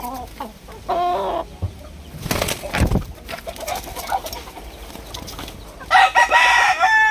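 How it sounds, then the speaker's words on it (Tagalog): Fighting roosters cluck and crow at close range, with a full crow early on, a burst of rustling or flapping in the middle, and another loud crow near the end, with sparse voices in the background. "Hyper ang mga manok na ito guys kasi hindi ito mga low class na manok."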